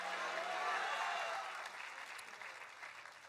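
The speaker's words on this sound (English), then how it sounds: "Clap your hands and shout hallelujah." A church congregation claps during a sermon on dealing with the devil, producing a soft, distant wash of steady applause that slowly thins out over a few seconds.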